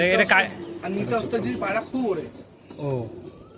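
Pigeons coo softly in a high flying Madrasi pigeon loft in Kolkata, short rolling calls mixed in and partly masked by someone talking close by.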